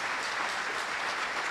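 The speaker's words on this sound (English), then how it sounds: "Can we have a round of applause for our wonderful staff?" An audience at a congressional town hall applauds the staff, a quiet, steady wash of clapping with no talk.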